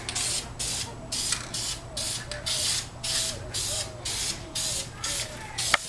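Repeated short bursts of aerosol spray paint hiss loudly and close by as brake calipers and drums are painted, about a dozen evenly spaced sprays separated by brief pauses.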